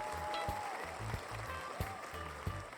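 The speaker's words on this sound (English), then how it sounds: "Each one of those people is in a little isolation booth clapping" Applause built from people clapping alone in isolation booths and blended together, a soft continuous patter of claps with rhythmic thumps beneath and a voice talking over it.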